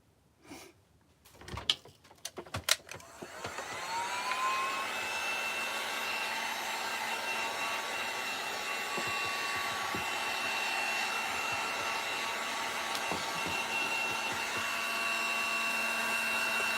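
A hair dryer runs steadily at close range, drying a Dollar Tree Easter craft piece, after a few clicks and handling knocks at the start. A constant, fairly loud whir with a faint tonal whine holds to the end.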